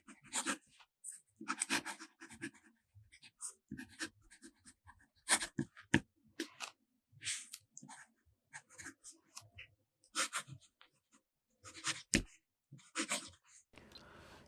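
A fountain pen with a music nib scratches across paper in short, separate bursts of writing with quiet pauses between strokes. The sound is close and faint, with no talking.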